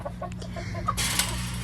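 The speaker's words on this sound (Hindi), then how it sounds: "क्या बड़ा प्यारा मुर्गा है ये मेरा।" Chickens and a rooster on a farm give a few short, close clucks, followed by a sudden burst of broadband rustling noise.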